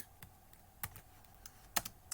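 Typing on a computer keyboard in a dark room, a few sparse, quiet key clicks spread over two seconds, close and isolated against faint background hiss.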